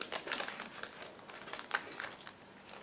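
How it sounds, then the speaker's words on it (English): Crinkling of a small plastic bag holding the transparent parts of an ICM 1/48 I-153 model kit as it is opened, with quick close rustles and crackles. "I want to open the separate plastic bag with transparent parts."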